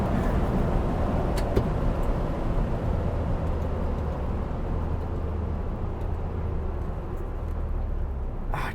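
A 2021 Ford Bronco Wildtrak four-door soft top with 35-inch tires cruises on the road, its steady engine and road rumble droning evenly inside the cabin with no one speaking.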